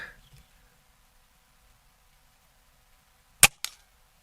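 A Norica Omnia ZRS .22 breakbarrel air rifle fires once, a sharp near crack followed by a brief softer echo or impact after a long quiet pause.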